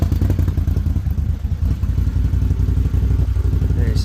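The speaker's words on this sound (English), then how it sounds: "let you fire it up. Then we'll run through lights just so you guys can hear the exhaust on it." A 2025 Can-Am Defender side-by-side, fitted with an aftermarket exhaust, idles with a steady, loud, deep engine rumble and exhaust burble that runs unbroken from start to finish, with a faint clattering edge.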